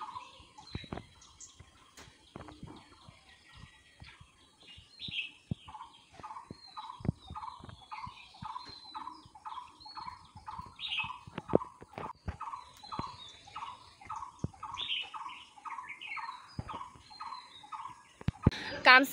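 Birds, among them a dove, gather to feed on termites outdoors, giving a long series of short, evenly spaced calls repeated steadily over the whole stretch, with sharp clicks and knocks scattered through it.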